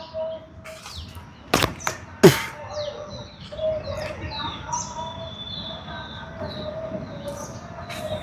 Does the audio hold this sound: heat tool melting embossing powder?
no